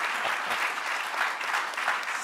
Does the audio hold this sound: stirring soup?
no